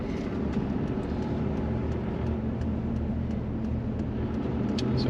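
Land Rover Discovery Td5 diesel engine pulling up a hill on a bypass in third gear, a steady low droning rumble with constant road and cabin noise, heard from inside the vehicle without talk.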